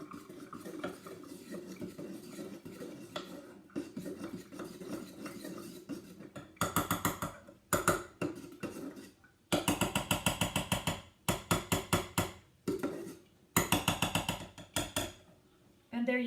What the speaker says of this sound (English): And then you just stir that up with a metal spoon.